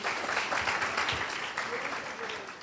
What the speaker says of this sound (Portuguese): Uma salva de palmas para o Mateus.